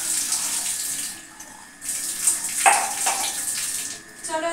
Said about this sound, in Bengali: জলটা মেপে নিচ্ছি।